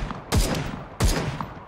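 Two loud, close gunshots from a PUBG-style battle royale shooter, about 0.7 seconds apart, each a sharp crack with a ringing tail, no talk over them.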